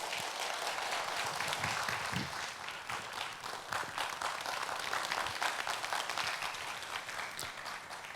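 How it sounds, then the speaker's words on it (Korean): An audience at an evening cultural event applauds to welcome a speaker, a long, steady wash of many hands clapping, somewhat distant and even throughout. "박수로 모시도록 하겠습니다."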